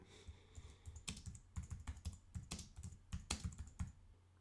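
Steady typing on a computer keyboard while a novel is written, a quick irregular run of close key clicks with short pauses between bursts.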